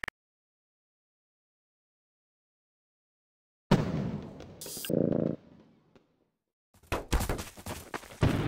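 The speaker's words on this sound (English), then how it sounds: "these fireworks had no effect on my frame rate" Fireworks go off during a Fourth of July show on a video game build server, with a long silence followed by a burst of bangs and crackles, a pause, then another cluster of pops and thumps.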